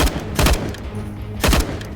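Two short bursts of AUG rifle fire in the game CS:GO on the Dust II map, each a rapid cluster of sharp, loud shots, with quieter game ambience between them.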